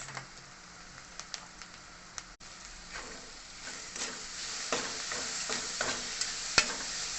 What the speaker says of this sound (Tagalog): Hinalo ko lang yung rice.